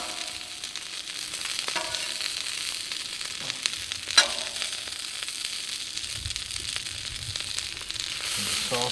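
Eggs and sausage sizzle on a Nexgrill two-burner portable propane griddle, giving a steady, close crackling hiss with light scraping and one sharp click partway through, and no talking.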